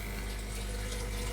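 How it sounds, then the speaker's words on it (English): Water overflowing from an aquarium filter bucket into a sump, a steady, faint rushing trickle that runs without a break. "The water then overflows from this bucket"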